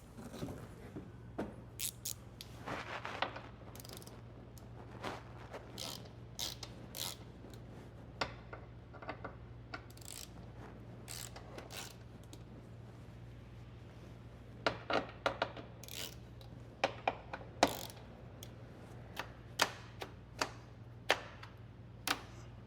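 Loosening the top centering cone on a 2019–2024 Mercedes Sprinter electric sliding door: scattered metallic clicks and ratcheting ticks from a hand tool, close and quiet over a low steady hum.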